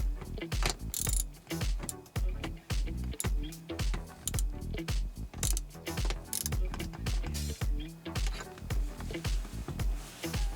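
Ratcheting on a bolt while tightening the armrest of a 2008 Cadillac Escalade, a steady run of close, sharp clicks in rhythmic bursts with no talking.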